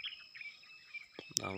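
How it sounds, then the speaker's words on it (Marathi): Faint high chirps from birds come and go in quiet surroundings, followed by a brief louder knock and a short burst of nearby sound. "पक्ष्यांचा आवाज"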